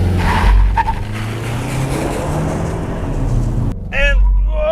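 A 2021 Mazda CX-30 2.5 Turbo Premium Plus launches hard from a stop, its engine roaring loudly with tire noise as it accelerates; voices speak from inside the cabin, briefly at the start and again at the end.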